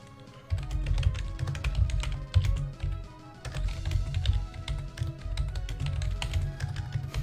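Steady typing on a computer keyboard during a live game recap, a close, fairly loud run of rapid key clacks with brief pauses and a soft low hum underneath.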